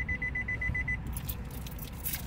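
A rapid series of short, high electronic beeps from a 2015 Nissan Altima during smart key programming, evenly spaced, followed by low engine rumble and faint clatter.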